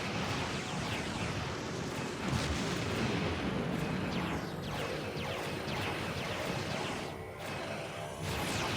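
Enemy ships in the space combat game Star Trek Online fire weapons in a dense, continuous barrage of blasts and crashing impacts, loud and close throughout with no pauses.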